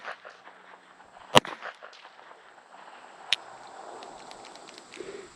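Two sharp, separate gunshots from a small Colt Vest Pocket .25 ACP pistol, the second about two seconds after the first, each a brief loud crack over faint outdoor background.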